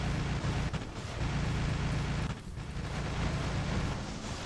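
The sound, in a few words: Hellburner explosion in War Robots video game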